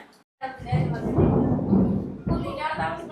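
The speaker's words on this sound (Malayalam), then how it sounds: "നല്ല ഇടിമിന്നലുണ്ട്" Thunder rumbles during a thunderstorm at a home on Vishu, a deep, loud, rolling peal lasting a few seconds after a brief silence.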